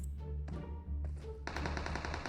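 Rapid automatic gunfire in PUBG Mobile, loud bursts of machine-gun shots layered over continuous game background sound, ending in a sustained fast volley.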